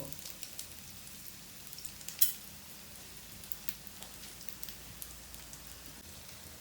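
Bread soaking in egg frying in oil over medium heat for French toast, a steady faint sizzle with small crackling pops and one brief sharper spatter.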